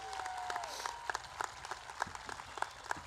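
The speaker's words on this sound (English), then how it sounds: "Let's give these a round of applause." Audience applause at a 2022 high school graduation ceremony, with a dense wash of clapping fading into scattered individual claps, and a brief whistle near the start.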